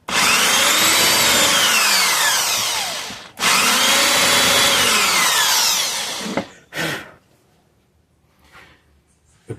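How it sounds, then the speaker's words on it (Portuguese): Power drill boring holes into wood for screws during furniture carpentry, two long loud whirring bursts separated by a brief pause, then the motor winding down and quiet handling. "Eu vou furar aqui para ficar mais seguro."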